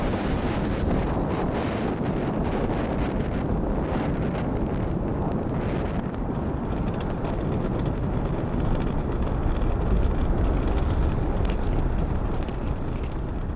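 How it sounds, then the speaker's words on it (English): A SpaceX Falcon Heavy rocket climbs after liftoff on the ViaSat-3 Americas mission, a loud, steady broadband roar that rumbles and crackles without letup for the whole stretch, with no voices over it. "Falcon Heavy is headed to space."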